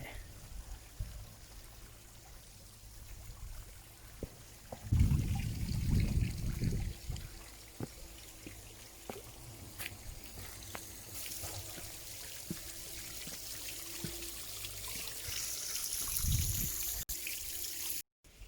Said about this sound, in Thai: นี่น้ำตกภูน้อย